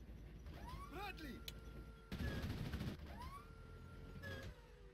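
Bradley 25mm cannon fire in the video game Full Spectrum Warrior, bursts of gunfire in a busy combat mix with whistling and sweeping effects, fairly faint overall with a denser stretch of shots partway through.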